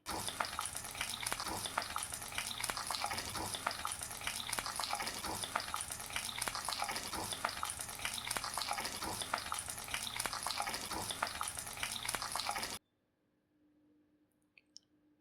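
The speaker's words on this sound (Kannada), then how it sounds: "ಇದನ್ನು ಒಂದು ಎಂಟು ನಿಮಿಷ ನಾವು ಎಣ್ಣೆಲಿ ಚೆನ್ನಾಗಿ ಫ್ರೈ ಮಾಡಬೇಕಾಗತ್ತೆ" Masala-stuffed eggplant fries in oil in a pan for a North Karnataka-style dish, giving a loud, dense, continuous sizzle with crackling that stops abruptly near the end, leaving near silence.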